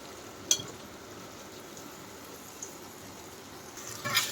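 Boiled taro root pieces frying in a chilli masala, giving a faint, steady sizzle with a couple of soft clatters as pieces drop into the pan near the start and end.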